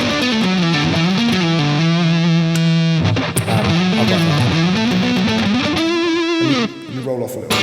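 Epiphone Les Paul Custom Pro electric guitar in its single-coil setting, played loud and continuous with sustained chords and melodic lines through distortion and effects, no talking over it.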